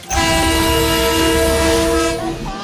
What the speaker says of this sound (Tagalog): Maya-maya, dumating ang tren mula Tutuban.